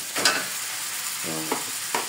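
Cold overnight-refrigerated rice is tipped into a hot pan and stir-fried for nasi goreng, giving a steady close sizzle with a few louder scraping stirs, and no talking.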